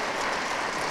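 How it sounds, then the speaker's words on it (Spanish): Standing applause from an audience at a Meliá hotel chain investment announcement in Punta Cana, a dense, steady wash of clapping filling the whole second at even loudness with no voices. "quiero pedirles un fuerte aplauso de pie a la cadena Meliá"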